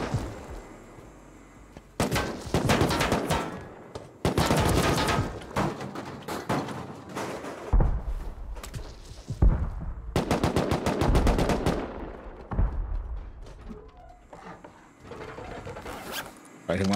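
Bursts of automatic gunfire from a modded Rust raid in the video game, loud rapid volleys in several separate stretches with short gaps, a mechanical zipper-like rattle between them, and some talk mixed in.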